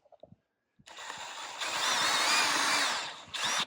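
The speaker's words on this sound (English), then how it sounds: "We're going to drill this through, take this last little remaining piece out" A power drill whines up and grinds steadily through a metal rivet for a couple of seconds, pauses briefly, then spins again.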